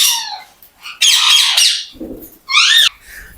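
Sun conure parrots squawk loudly inside a bird shop in a Multan bird market, giving three shrill, harsh bursts, each followed by a short pause, with a faint low rustle between the calls.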